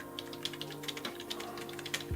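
Fingers type on a new computer keyboard, a quick irregular run of light clacking keystrokes, close and fairly quiet, with no one talking.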